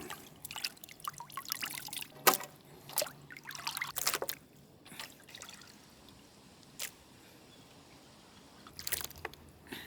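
Buffalo tongue meat washed by hand in water for a village-style pepper fry makes soft, close splashes, trickles and wet squelches in scattered bursts with quiet pauses between them.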